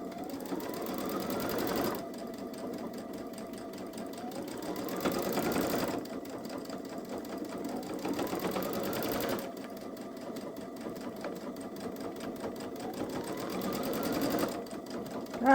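A Babylock Solaris 3 sewing machine darns with a buttonhole foot, its needle running in fast rapid stitching bursts separated by brief pauses, fairly close and steady.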